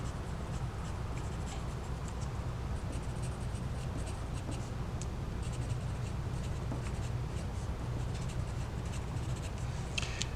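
Pen or marker writing a geometry congruence statement for triangles on a surface, steady continuous scratching strokes close up, with no talking.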